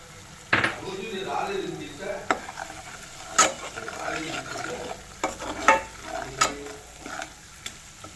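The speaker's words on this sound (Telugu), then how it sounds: "మసాలాలన్నీ వేగిపోయినాయండి." Ground coriander, cumin and fenugreek masala fries in a pan for a fish curry, a soft steady sizzle broken by repeated sharp scrapes and clinks of a spoon stirring against the pot.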